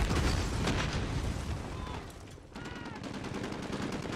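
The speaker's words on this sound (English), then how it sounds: "Just gonna throw a grenade real fast." In the video game Modern Warfare 2019, a grenade explosion and gunfire make a dense, continuous roar of bursts and rumble that stays quiet and distant, easing briefly midway before building again.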